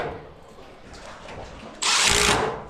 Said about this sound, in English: Screws going back in the decking.